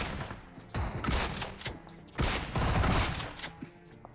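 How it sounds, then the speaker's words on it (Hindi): Shotgun gunfire in a video game: loud, sharp blasts fire in a quick, uneven series of bursts, several close together, with short gaps between them and no talking. "एंड क्योंकि शॉटगन थी तो भाई मज़ा आ गया भाई शॉटगन से बंदों को पेल के"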